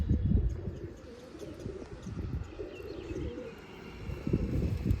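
A Veen pigeon coos on a rooftop, low rounded calls repeating in soft pulses at close range with some outdoor background and no talk.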